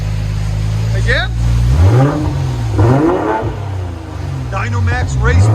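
BMW X5 M40i 3.0L fitted with a Dynomax race bullet exhaust, revving repeatedly: a loud idle rumble broken by three or four sharp throttle blips that rise and fall, with voices chatting over the engine.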